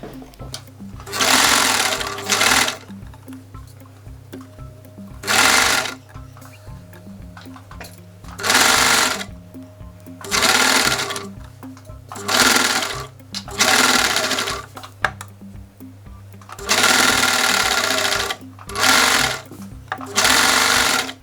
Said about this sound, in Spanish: Ahora lo vamos a meter a la máquina. Ya veréis qué rápido lo vamos a coser.